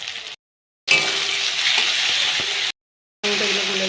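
Tomatoes fry in oil with black cumin for a fish curry, a steady close sizzle broken by two short silent gaps.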